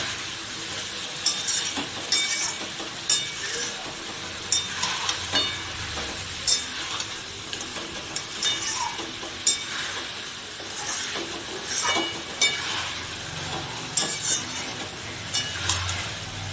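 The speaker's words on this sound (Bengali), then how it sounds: "যদিও মাংস তেল ছেড়ে দিয়েছে, তাহলেও আমি আরো কিছুক্ষণ এটাকে" Mutton being stir-fried (kosha) with potatoes in oil in a pot: a steady close sizzle and hiss under frequent irregular scrapes and clatters of the stirring spoon against the pan, with no talking.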